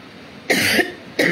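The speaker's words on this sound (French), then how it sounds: "Le soir comme ça, je tousse beaucoup." A person coughs twice in quick succession at close range, two short harsh bursts separated by a brief pause, with no speech.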